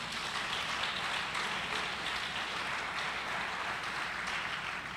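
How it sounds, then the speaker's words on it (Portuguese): A church congregation applauds during a sermon, producing a steady, dense wash of clapping that holds evenly throughout at a moderate distance. "Dá um aplauso ao Senhor."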